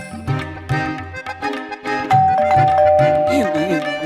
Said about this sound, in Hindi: हाँ, डोरबेल बज रही है